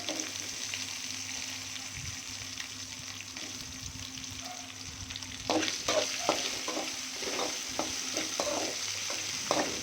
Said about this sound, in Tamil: இது எல்லாம் போட்டு நம்ம நல்லா வதக்க போகிறோம்.